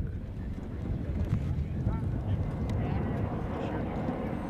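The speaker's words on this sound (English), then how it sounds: "A little windy today." Strong wind gusts buffet the microphone on an outdoor film shoot among desert sand dunes, a steady low roar throughout with faint voices underneath.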